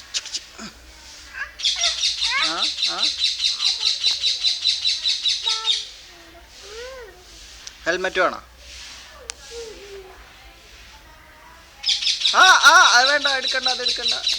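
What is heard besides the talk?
parrot calling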